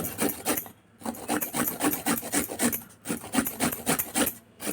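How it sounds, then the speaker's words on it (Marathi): Amla (Indian gooseberry) is rubbed across a hand grater for green chutney, making close, rhythmic rasping strokes, several per second, broken by brief pauses. "त्यासाठी चटणीसाठी 2 आवळे घेतले, हे किसून घेते मी"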